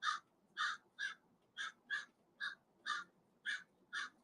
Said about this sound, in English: Can you hear that crow?